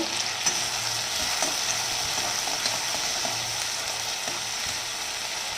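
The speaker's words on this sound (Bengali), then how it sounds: "পেঁয়াজটা একটু ভাজা ভাজা হবে।" Chopped onion sizzles steadily in hot oil in a wok while being stirred, with soft scraping and clinking over the constant close frying hiss; nobody speaks.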